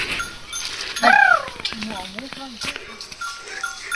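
Cattle and calves move along a hill path on Palamalai, with a bellow-like call rising over a busy outdoor background of people talking and faint clinking.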